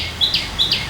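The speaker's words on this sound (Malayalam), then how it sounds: "കാവുകളിലെ രാപ്പക്ഷികളുടെ ശബ്ദം" Night birds in a sacred grove give two quick pairs of high, thin chirps, close and fairly loud over a faint hiss.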